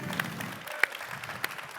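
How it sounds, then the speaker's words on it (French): A conference audience at a real estate innovation pitch final gives light, scattered applause, faint and fairly distant, with a few sharper individual claps standing out. "On l'applaudit. Bravo."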